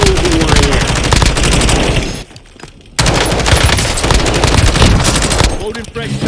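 Rapid automatic gunfire rattles loudly and almost continuously in a Call of Duty: Warzone match on Rebirth Island, breaking off for a brief pause before resuming in dense bursts.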